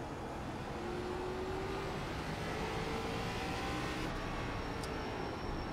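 An ARCA race car engine on the Lanier Roval road course in iRacing drones steadily and loud throughout, a continuous mid-speed rumble with little change in pitch and no talk.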